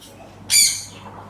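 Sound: parrot squawking

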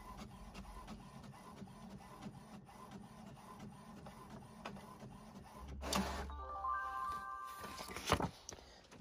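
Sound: inkjet office printer printing

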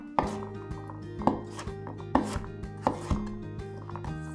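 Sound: chopping garlic roughly with a knife

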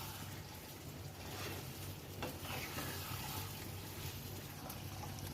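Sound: pointed gourd being sautéed in a pan

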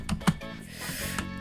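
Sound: spam clicking a computer mouse while playing a game

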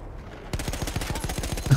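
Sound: gunfire, video game Battlefield 1

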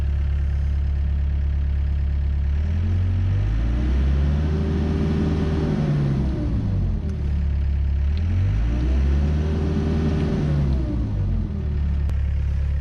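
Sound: excavator engine running after eco-friendly engine replacement

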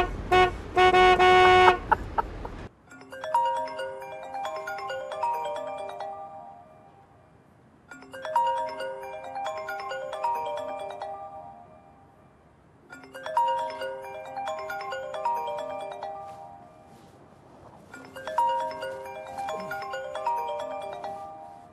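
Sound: telephone ringing

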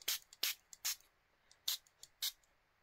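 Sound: small spray bottle squirting

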